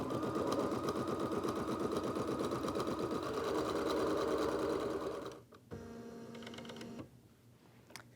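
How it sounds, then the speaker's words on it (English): An embroidery machine stitching a placement line onto stabilizer, a fast steady mechanical chatter of needle strokes, close and even, that slows and stops near the end, leaving quieter motor hum and clicks. "The first stitch sequence that goes down is a placement line that stitches directly on your stabilizer."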